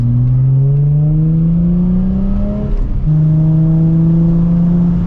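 Nissan 350Z accelerating on the road, its engine note rising steadily through one gear, a brief dip at a shift, then climbing again, loud and close from inside the car.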